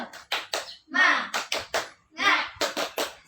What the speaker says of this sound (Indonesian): Ayo kita tepuk bersama-sama. Tepuk semangat.